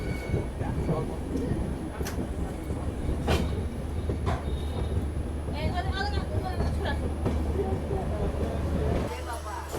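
The Saurashtra Mail train pulls into Jamnagar railway station with a continuous low rumble and scattered clanks and clicks of wheels on track, while voices and platform chatter carry over the top.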